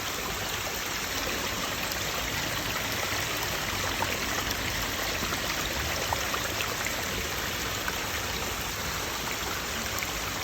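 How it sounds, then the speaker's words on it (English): Patio pond fountains send a steady, gentle wash of moving water, trickling and splashing continuously at an even level, close by and with no voices over it. "with always that gentle sound of moving water."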